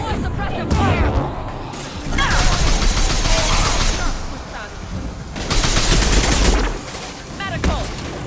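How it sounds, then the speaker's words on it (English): Sustained bursts of suppressive gunfire in the video game Mass Effect Legendary Edition, loud rapid volleys with crashes and a dense battle background, with voices talking over the shooting. "Protocol 4, deploy suppressive fire!"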